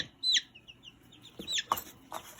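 Black copper Maran chick with feathered legs squawking in a few sharp, high calls, loud and close, with brief pauses between them.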